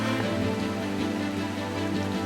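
Steady rain falling in the Rockies around a Jeep, a dense, even patter with a constant low hum underneath, continuous for the whole stretch and with no voices.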